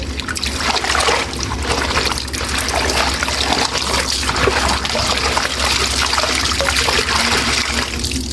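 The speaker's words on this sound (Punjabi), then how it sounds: "ਹੁਣ ਆਪਾਂ ਵਿੱਚ ਪਾਣੀ ਪਾਵਾਂਗੇ" Water pours into a tub holding a heavy salwar suit in a steady, continuous stream close by, splashing and trickling without pause.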